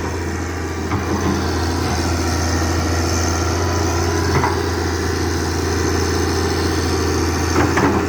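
An engine idles steadily and evenly after its pump has been retuned, a close continuous low rumble with a few faint clicks and no talking.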